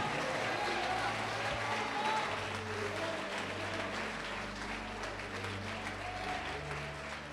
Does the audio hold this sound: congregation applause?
yes